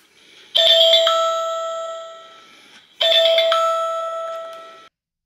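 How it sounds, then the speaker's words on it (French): A bright two-tone electronic chime from a solar WiFi security camera, signalling it is ready to pair, plays twice, each ringing out and fading before the next, clear and close with no other sounds. "dès que l'on entend ce bruit, la caméra est prête à l'appairage."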